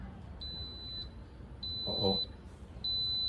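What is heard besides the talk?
Instant Pot electric pressure cooker beeping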